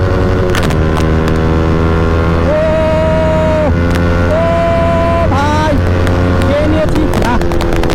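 A KTM Duke and a Yamaha R15 race along a road with a loud, continuous engine drone. The pitch rises and falls as the riders rev and shift, under heavy wind rush, and voices may be faintly present.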